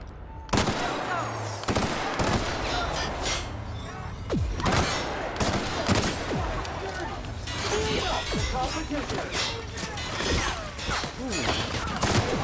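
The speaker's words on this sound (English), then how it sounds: "This gun definitely does some damage." Gunfire in the video game The Outer Worlds, a series of loud sharp shots and bursts scattered across the clip, with someone talking at times between and over the shots.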